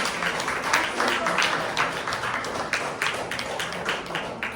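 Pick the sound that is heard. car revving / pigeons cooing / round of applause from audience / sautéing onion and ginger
round of applause from audience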